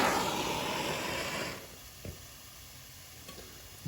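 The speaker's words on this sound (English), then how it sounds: "You can hear the towel over here sizzling, which is good." A wet towel wrapped near a copper pipe hisses and sizzles steadily under soldering torch heat, a close, soft crackling hiss that stops abruptly and gives way to quiet with a few faint ticks.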